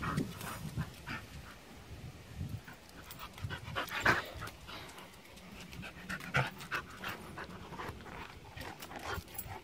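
A dog pants rapidly and rhythmically while holding a ball in its mouth, the breathing close and steady with occasional small whimpers and snorts throughout, and no talk.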